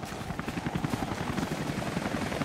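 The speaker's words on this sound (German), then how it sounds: "Da kommt ein Heli." Helicopter in the video game Rise of the Tomb Raider, a steady rhythmic rotor chop with low engine rumble, fairly loud and continuous throughout.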